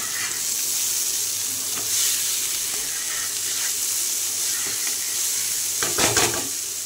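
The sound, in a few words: cauliflower frying in a pan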